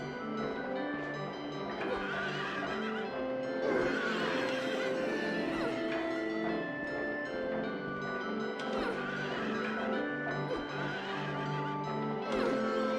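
Horses neigh and whinny in the Silent Hill 3 video game, several overlapping cries rising and falling over a dense, droning musical backdrop that fills the whole stretch.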